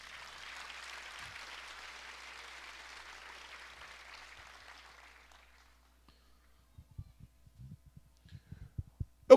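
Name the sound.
applause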